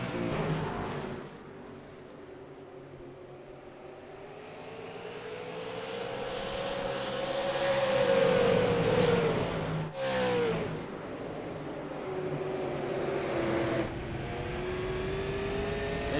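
Super late model race cars circle North Wilkesboro Speedway, their engines droning loudly and steadily, with the pitch rising and falling as the pack passes close by.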